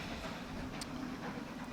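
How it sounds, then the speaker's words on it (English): Distant steam train passing at the far end of a cricket ground during a one-day international, a faint, steady chugging rumble with light rhythmic clatter and no talk. "I sincerely hope you're picking up the noise of the steam train there in the distance."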